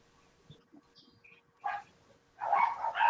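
A dog barks a few times somewhere near a woodworking shop, short bursts separated by quiet gaps, with a louder cluster of barks at the end.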